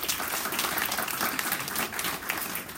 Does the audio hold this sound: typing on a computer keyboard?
no